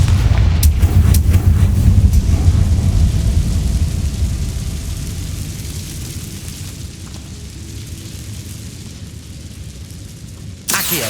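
Confringo fire spell blasts boom loudly in Hogwarts Legacy, a heavy opening burst rolling into a fading rumble, then another sharp hit just before the end, with no talk.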